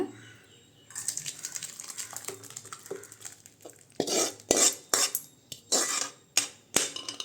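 Sambar made with murungai keerai (drumstick leaves) is poured and scraped from a pot into another vessel, with clattering metal utensils, a wet slosh and a series of sharp ladle knocks on the pan rim.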